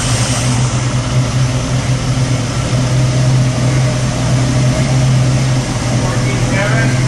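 A 1970 Ford Mustang Boss 302 V8 running on a dyno while fueled with HHO, a loud continuous engine roar held at steady revs throughout, close and dominant.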